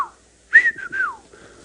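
A person imitates the call of a whistling duck, giving a few short rising and falling whistled notes, close and clear against a quiet background.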